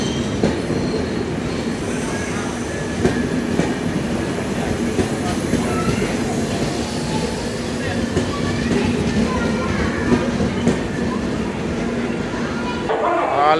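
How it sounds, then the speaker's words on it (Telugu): A nearly empty train hauled by an Arakkonam WAP-4 locomotive with LHB coaches arrives at Lingampalli platform 2, wheels rumbling and squealing steadily up close for a long stretch, with rhythmic clatter and a voice talking over it. "ఆల్మోస్ట్ ఖాళీగానే వస్తుందండి ట్రైన్."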